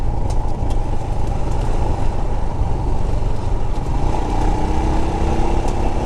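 A Royal Enfield Himalayan 411 motorcycle engine drones loudly and continuously while riding, with a steady throaty rumble and some wind, shifting tone slightly near the end as the gears drop.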